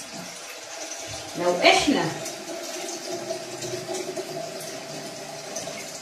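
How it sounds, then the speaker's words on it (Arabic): Hot water from a home water heater poured into dough in winter, a short splashing pour that rises quickly and fades, with a person talking over it. "هحط مية سخنة، سخنة من السخان بتاع البيت عادي جدا"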